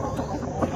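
Chickens on a farm being fed squash cluck in a dense, steady flock chatter, close and continuous, with a slightly louder burst near the end.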